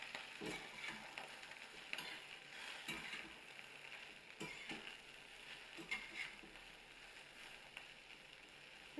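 Okra frying on full gas for a spicy bhindi fry, a faint steady sizzle with occasional soft stirring scrapes and knocks, no talk.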